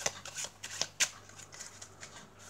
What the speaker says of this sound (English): Get your friend to give the cards a shuffle.